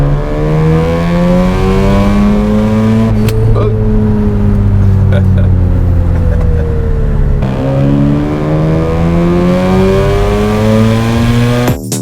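A 400 hp Mazda FD RX-7 engine revs hard and close, climbing in pitch, dropping back, then surging again in a loud sustained run.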